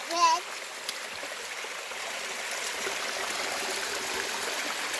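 A small waterfall cascades steadily at a summer campsite, a continuous broadband rush of falling water heard fairly near, with a brief voice at the very start.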